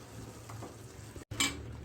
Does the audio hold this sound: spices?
yes